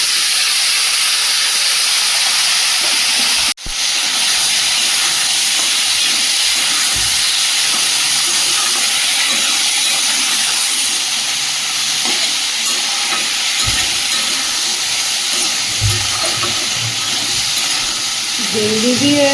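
Vegetables fry in a wok with chopped ginger and whole cumin, giving a steady broad hiss and sizzle throughout, broken once by a sharp clank early on.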